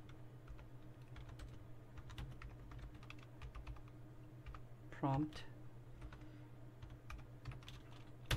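Someone types a prompt on a computer keyboard, giving quiet, irregular key clicks in quick runs over faint room hum, with one brief louder clatter midway.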